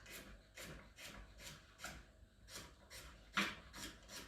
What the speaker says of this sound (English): cut them in half so they don't take off, and then cut them into nice wee slices